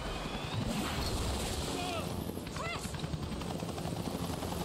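Steady helicopter rotor roar in Resident Evil Revelations fills the scene, a continuous loud whirring drone with shouting voices over it and some brief chirping tones.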